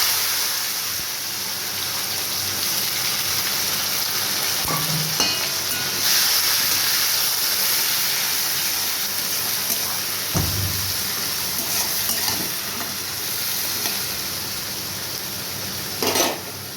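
Onions fry in oil with sugar and a bay leaf for a Bengali mutton curry, giving a steady broadband sizzle throughout with a few brief knocks of a utensil against the pan.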